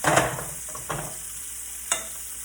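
Shrimp searing in a hot pan for a Cajun seafood alfredo, a steady close sizzle broken by a few sharp stirring scrapes and clacks.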